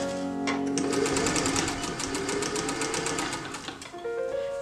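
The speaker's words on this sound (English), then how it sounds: "I'm actually unsure about these side seams, so I'm gonna baste them." A sewing machine basts the side seams of an 1895-style waistcoat in one steady, fast run of stitching, its rapid rhythmic needle clatter loud and close throughout.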